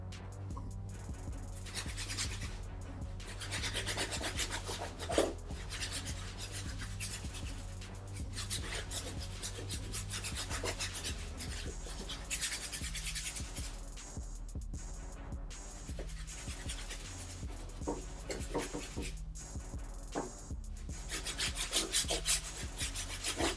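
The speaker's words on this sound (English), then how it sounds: "I'm going to go back to the soft bristle brush to do these sock liners and the tongue area" A soft bristle brush scrubs the cotton sock liners and tongue of an Olympic Air Jordan 7 sneaker, a continuous close rubbing and scratching with steady back-and-forth strokes and no talk.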